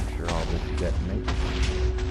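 Minecraft TNT blocks detonating in a sequence of deep, booming blasts, about four bursts spaced roughly half a second apart, loud and rumbling with a continuous low roar between them.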